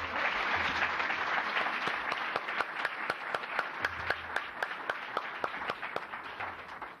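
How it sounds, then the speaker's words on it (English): Audience at a renters' summit applauds the panelists, a steady wash of clapping with a few distinct sharper claps standing out near the front, tapering off at the end. "How about a round of applause for each of the panelists?"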